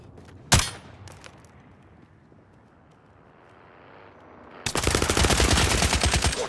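Gunfire in Call of Duty Warzone: a sharp single shot near the start, then a loud, dense burst of rapid automatic fire closing the clip.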